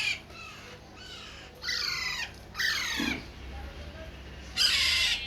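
A male Alexandrine parakeet gives about five loud, harsh squawks in separate bursts, close by, with quiet gaps between them.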